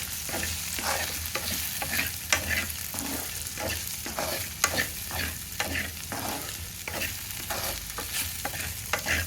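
Okra pieces fry with chili powder in a pan, a steady close sizzle broken by repeated rhythmic scrapes and stirs of a spatula roughly every half second, with no voices.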